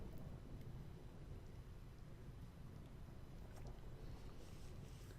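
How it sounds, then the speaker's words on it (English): Steady rain and low rumbling thunder wash over the Thunder Plains in Final Fantasy X, a constant stormy roar with no clear separate strikes standing out. "is that there's a lot of little thunder and lightning"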